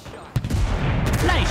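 Gunfire crackles in a World War II first-person shooter, Enlisted, with a sharp shot followed by a dense burst of rapid reports and echoing battle noise.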